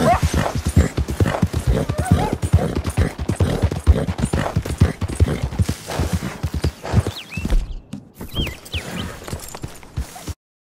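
Horse hooves clip-clop in a steady brisk rhythm while riding in the video game Red Dead Redemption 2, close and continuous, with a few soft snorts before it cuts off abruptly.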